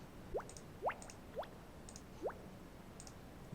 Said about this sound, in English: That's the water effect I made.